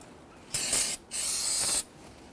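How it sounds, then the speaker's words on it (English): Two bursts of aerosol solvent cleaner spray hiss close by onto a brake master cylinder cover of a 2008-2013 Infiniti G37, a short one followed by a longer sustained one, with quiet gaps between. "you want to go ahead and spray and clean up the cover itself"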